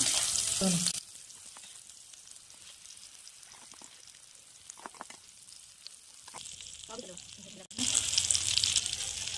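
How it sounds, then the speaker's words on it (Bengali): Eggplant slices fry in oil. A loud bright sizzle at the start drops to a quieter crackling with scattered pops, then surges back loud near the end. "এইভাবে আমি সবগুলো ভেজে নেব"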